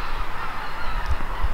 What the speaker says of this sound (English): A bunch of snow geese flying over this morning.